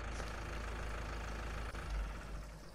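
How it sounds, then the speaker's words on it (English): A tractor engine idles on a cattle farm, a steady low rumble that runs unbroken and fairly close, with no talking. "Turn off the tractor."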